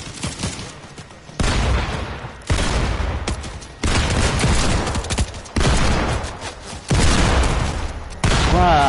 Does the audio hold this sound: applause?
no